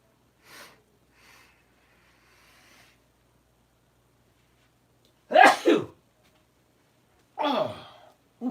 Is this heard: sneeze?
yes